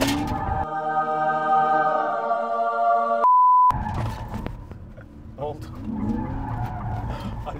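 All-wheel-drive Kia EV6 electric car attempting a drift, with a sustained tonal hum, a sharp beep, then rising and falling tire squeals and skidding under nearby voices.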